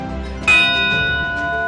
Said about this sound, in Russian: В одной из казанских школ есть колокол желаний